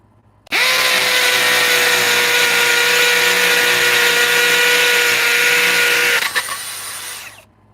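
A cordless 1/2 inch impact tool rated 1,250 inch-pounds and 32,000 beats per minute runs free with a loud, steady high whine for nearly six seconds, then winds down with a brief rattle before falling silent.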